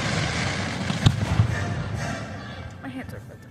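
A firework goes off outdoors at night with a single sharp bang near the middle, followed by a softer thud, over background chatter and ambient noise from people nearby.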